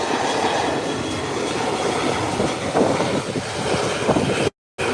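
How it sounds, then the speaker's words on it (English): Airplane engines roaring during a short takeoff roll at an international airport, a loud, steady broadband rumble heard from a distance with gusty swells, ending in a brief dropout. "it's taking a short takeoff, friends"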